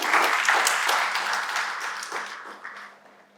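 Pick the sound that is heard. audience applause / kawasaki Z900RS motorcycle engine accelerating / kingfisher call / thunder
audience applause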